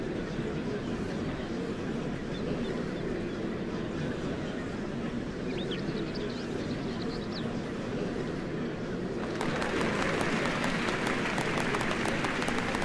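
A dense crowd in the video game Final Fantasy XIV: Dawntrail murmurs and cheers continuously around the Golden City. Near the end it swells into brighter, crackling applause.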